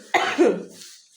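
A single harsh cough from a woman at home, close and loud, one short burst trailing into a breathy tail.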